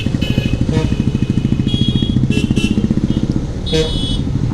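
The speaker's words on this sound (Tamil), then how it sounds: "அடுத்த லெவலுக்கு ஆக்சலரேட்டர் கொண்டு போய்ட்டோன்னா பைக் வேகமாக போயிடும்" A 250cc sports motorcycle engine runs in second gear with a steady, pulsing throb that builds as the throttle opens, loud and close, with a brief higher-pitched rasp near the end.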